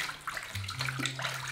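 Water is poured and splashed while a long-haired male cat is being bathed, a close, steady trickle and wash with soft splashes and no talking.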